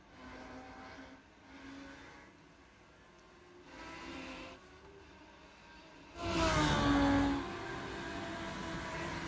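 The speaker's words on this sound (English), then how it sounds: "Looks like Nuttall is pulling up here on a lap car, Mike Matherly, who is bringing up the rear" Race cars at Summit Point track pass in a series of swelling engine whooshes, distant at first and then a louder, closer car roaring by near the end with a rising whine.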